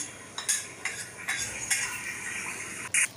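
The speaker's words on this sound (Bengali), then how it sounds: "ভালো করে নাড়াচাড়া করে নিতে হবে, আলু এবং মশলার সাথে মাছটাকে ভালোভাবে মিশিয়ে নিতে হবে।" A utensil scrapes and clinks against a pan as rohu fish is stirred together with potatoes and spices, several separate strokes over a soft background hiss.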